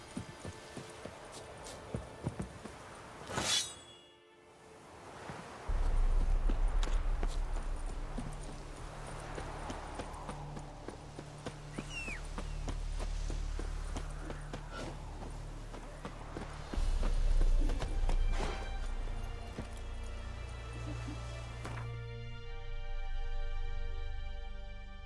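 Roach the horse's hooves clip-clop in a steady walking rhythm in The Witcher 3, fairly close and clear, over low rumbling ambience with a brief whinny-like sound early on.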